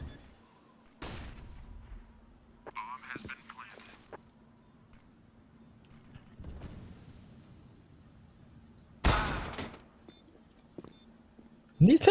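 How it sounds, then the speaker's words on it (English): Pistol shots from a Counter-Strike match pop sporadically at moderate distance, a handful of short sharp bursts spread over quiet game ambience, with a commentator talking briefly near the end. "And these pistols are actually getting some good damage done."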